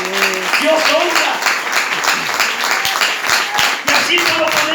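Applause from a church congregation during a worship service, steady dense clapping filling the room with voices and shouts mixed in throughout.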